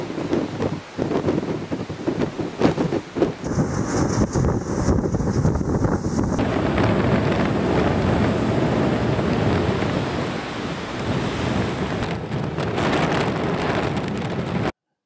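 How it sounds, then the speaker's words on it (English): Rough sea waves crash in continuously, a loud, broad roar of surf with wind buffeting the microphone, steady throughout with no voices. "how those waves do come crashing in"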